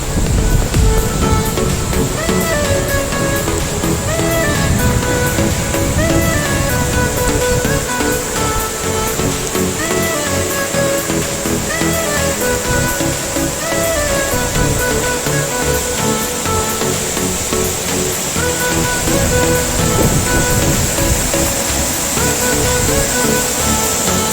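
Loud, steady rushing roar of a high-flow waterfall, close by and constant, with a broad wash of spray noise and no voices.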